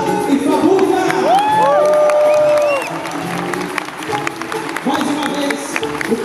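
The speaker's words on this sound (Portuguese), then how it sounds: "Eu gostaria de pedir uma grande salva de palmas a toda a nossa equipe técnica" A live samba concert audience cheers for a band and their crew, with loud rising whistles and whoops over dense clapping and crowd noise that settles into a murmuring hubbub.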